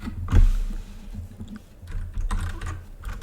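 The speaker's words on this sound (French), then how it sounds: "des petites touches de clavier, je m'excuse pour les sons." Computer keys clatter close by in a short, uneven flurry of taps, with a soft low rumble underneath.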